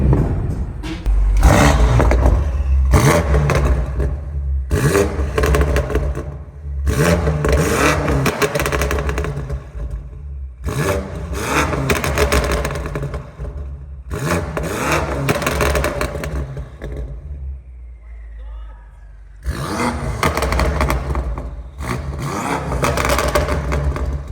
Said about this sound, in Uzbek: Mashina stage 2 da polniy trassa vixlab dekin qilingan, ovoz buni ham juda ham baland.